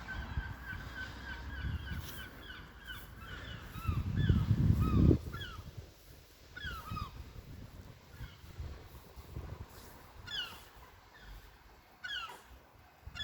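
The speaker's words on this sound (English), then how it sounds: "these are seagulls in the sky there, seagulls, because we're not that far from sea" Seagulls calling overhead near the sea by a church in Cleator Moor, Cumbria, with repeated distant, sharp cries in loose bursts over a low outdoor rumble and a brief louder noise midway.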